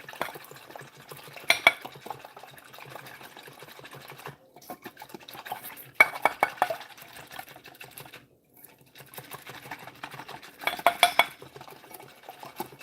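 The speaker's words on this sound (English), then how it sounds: "you want to whisk this just slightly, but you do want to whisk it" A mixture is whisked in a bowl, with bursts of quick, rattling strokes against the sides separated by short pauses, fairly close and moderately loud, with no voices.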